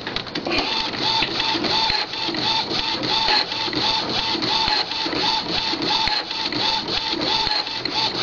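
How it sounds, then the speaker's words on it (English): Epson inkjet printer with a continuous ink system printing, a loud, close, steady mechanical whir with rhythmic clicking of the print head moving back and forth throughout. "the hoses are not in the way as you print, and your prints come out clean"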